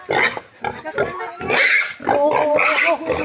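Pig grunting and squealing in loud repeated bursts, close by, with people talking over and between the calls.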